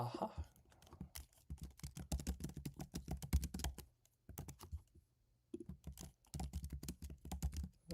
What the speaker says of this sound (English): Once I finish typing